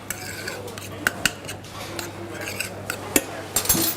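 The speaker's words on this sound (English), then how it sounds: "So chop them up and then just stir all those ingredients together so they just sort of cook down." A spoon scrapes and clinks in a pan while tomatoes and puttanesca ingredients are stirred together, giving light, irregular metallic taps and knocks up close against a soft background hiss.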